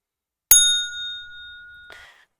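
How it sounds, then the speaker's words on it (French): A single bright bell ding rings out clearly and decays slowly, followed by a brief soft rustle near the end. "j'ai la fameuse sonnette"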